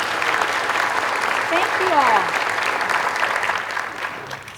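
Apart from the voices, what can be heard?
audience applause at a panel discussion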